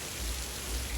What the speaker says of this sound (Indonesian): Langsung gue tes hujan-hujanan di tengah jalan pakai jas hujan gitu kan.